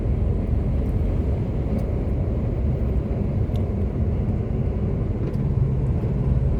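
Steady road traffic noise, a dense low rumble of passing vehicles that stays constant and fairly loud throughout, with no voices over it.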